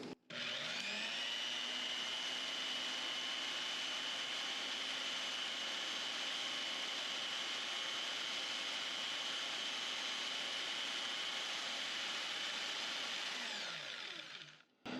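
A Wen spindle sander fitted with a sanding shelf runs with a steady, loud motor whine and hum that holds evenly for about fourteen seconds before cutting off, with no talking.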